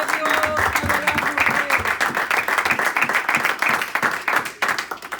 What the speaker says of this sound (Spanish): ¿Alguien puede dar un aplauso a Cristo Jesús?